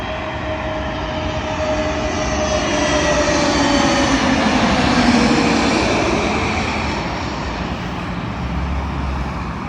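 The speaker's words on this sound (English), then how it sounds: "Arriving in now is a British Airways A321neo, or an A320neo, working a service from Stockholm to London Heathrow." Steady jet roar of a British Airways Airbus A320neo coming in to land on runway 27L at London Heathrow from Stockholm, building to a loud close pass around the middle before easing slightly, with no voices.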